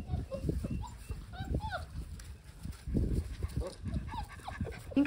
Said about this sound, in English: You don't need to whine